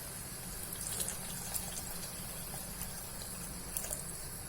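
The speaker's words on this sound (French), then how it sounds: "Donc maintenant, on va rajouter" Water is poured into a cooking pot of peppers and potatoes until it comes halfway up them. The pour is a steady, continuous close splashing rush lasting the whole clip, with no talk over it.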